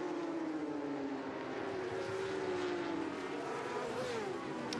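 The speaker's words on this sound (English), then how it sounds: "Getting big drive there out of the Clark curve onto the Brabham Straight, and James Ellison now moves through into 3r" Kawasaki superbikes racing out of Clark Curve onto the Brabham Straight at Brands Hatch, a continuous loud engine drone with the pitch slowly falling as machines pass at speed.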